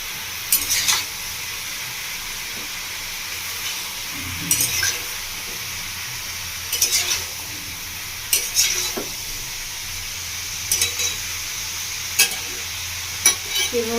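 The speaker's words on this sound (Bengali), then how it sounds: "এবার আমি 5 মিনিট মতো ভালো করে কষিয়ে নেবো।" Kadai chicken with salt stirred and fried in a pan, a steady sizzle broken by periodic scraping strokes of a spatula roughly every two seconds, close and clear with no talk.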